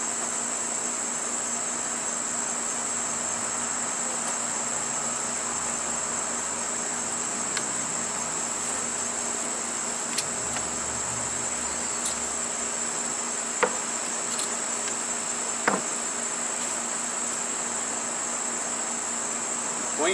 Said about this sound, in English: I don't know why the bees are a little bit jumpy today.